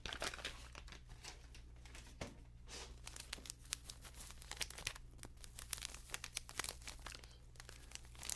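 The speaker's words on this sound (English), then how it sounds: "Oh hey, some more crinkling that can happen." Plastic wrapping on a brush crinkles and crackles softly and continuously at close range, faint and intimate against a low steady hum.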